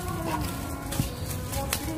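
Chickens cluck in short, close calls outdoors near a waterside fishing spot, with a steady background of ambient noise and faint talk.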